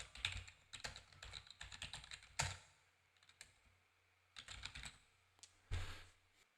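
Bursts of clicking keystrokes on a computer keyboard, quiet and close, with short pauses between flurries and no voices.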